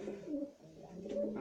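A pigeon makes soft, low cooing as it is held tight for a paramyxovirus injection. The coos come in a couple of gentle swells, close by.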